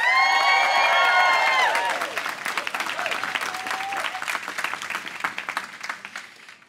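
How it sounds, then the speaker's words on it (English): An audience at a filmed poetry performance applauds and cheers loudly at first. The cheering fades into steady, thinning clapping that trails off over several seconds. "make some noise for Sami Rhymes"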